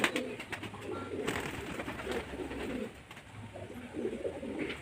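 Madras pigeons cooing at home, soft repeated throaty coos rising and falling close by, several birds overlapping with faint background rustle.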